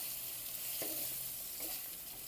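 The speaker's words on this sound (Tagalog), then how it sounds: "Gigisayin lang natin yan para lumambot siya." Quiet continuous sizzle of radish being sautéed in a pan for corned beef sinigang, with a couple of soft stirring scrapes, close by and without speech.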